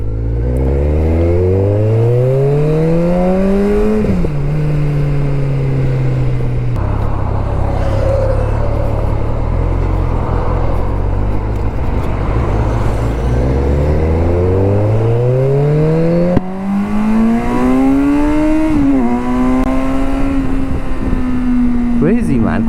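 A Kawasaki Versys 1000 motorcycle accelerates hard and loud, its engine pitch sweeping upward through several gear changes with brief dips between shifts, steady wind noise underneath.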